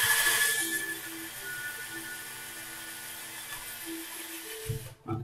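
A drill bores a pilot hole in a wooden piece for a Christmas crib, giving a steady, close, high mechanical whine that holds evenly for several seconds, then cuts off abruptly.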